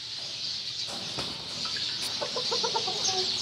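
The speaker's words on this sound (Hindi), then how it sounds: "ये छोटे चूजे हैं" Small chicks and hens cluck and peep softly in a coop, a few short bright chirps and a brief cluck clustered toward the end over a faint background hum.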